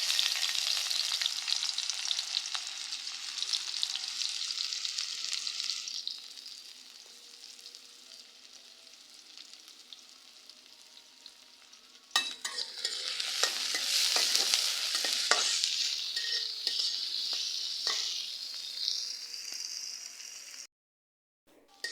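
Sliced onions frying in hot oil in a pan, a steady bright sizzle that fades midway, then surges loudly again with scraping stirs before cutting off near the end.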